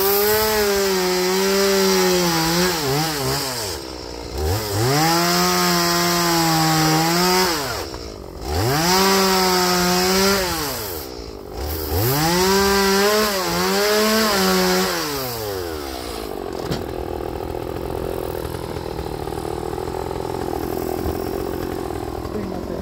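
A Norwood HD36v2 band sawmill cuts 14-foot arborvitae boards for 10x4 boat trailer bunks, its loud engine rising and falling in three long cutting passes with brief dips between, then settling to a steadier idle.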